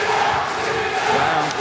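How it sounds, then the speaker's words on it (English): A kickboxing arena crowd at a Wu Lin Feng event at the PanAm Centre cheers in a continuous roar, loud and sustained with a broad wash of voices and no single speaker. "There goes the Liam cheering squad"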